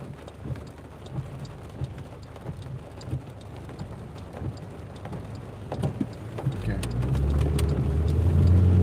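Rain patters steadily around a car being driven through wet streets, with a low engine and road rumble that swells louder near the end; no clear speech over it.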